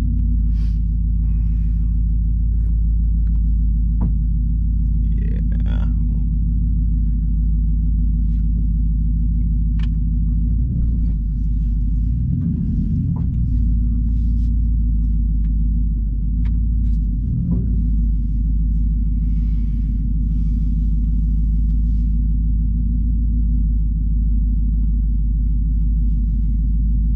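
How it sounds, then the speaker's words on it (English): A Thor Palazzo motorhome's Cummins 6.7 ISB diesel idles after a cold start, a loud low rumble that holds steady throughout and swells briefly a few times as if revved, with faint clicks over it. "That was a nice cold start"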